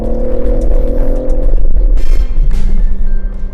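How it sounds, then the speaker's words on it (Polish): A 2021 BMW M3 Competition accelerates hard with a loud, close, deep engine rumble that rises steadily throughout, with no talking. "Przyspieszenie tego samochodu można by było porównać naprawdę realnie do startu samolotu"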